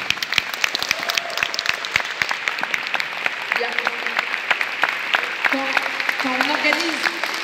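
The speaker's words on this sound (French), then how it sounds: "j'aimerais qu'on applaudisse très très fort tous les bénévoles" An audience applauds at length for the volunteers of a Palestinian solidarity event in Vitry-sur-Seine, dense sustained clapping from a nearby crowd with a voice briefly speaking over it.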